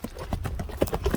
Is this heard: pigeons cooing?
no